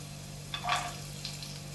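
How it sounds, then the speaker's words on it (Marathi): Peanuts and garlic frying in a pan give a faint, brief sizzle over a steady low hum from the kitchen. "शेंगदाणे आणि लसूण आपल्या सोबतच इथे परतून जातील"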